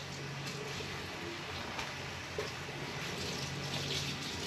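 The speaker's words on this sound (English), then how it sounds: "just rinse off my pot." Tap water runs steadily as a terracotta-free plant pot is rinsed after repotting a lipstick plant, giving a low, even rush of water close by with no pauses.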